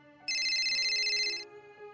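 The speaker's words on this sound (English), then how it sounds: "My work phone rang," A work phone rings as an audio drama effect, a bright electronic trill that starts abruptly, holds for about a second, then cuts off over a low, quiet tonal background.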